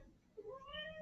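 A cat gives a single drawn-out, rising meow like a plaintive cry, close but soft, standing alone over a quiet room.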